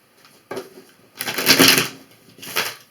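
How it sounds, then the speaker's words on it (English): Tarot cards being shuffled and laid out, giving dry papery riffles and slaps in short bursts with a longer, denser flurry in the middle, close and fairly quiet, with no talking. "every time I shuffle, when I lay the cards out, there it goes again"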